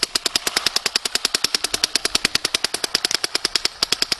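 A Dye NT paintball marker fires in a rapid, even stream of sharp pops, dozens of shots in a few seconds, loud and close with no talk over it.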